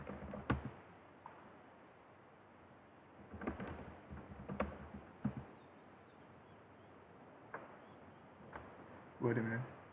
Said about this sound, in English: there was some typing here because my keyboard is not working as well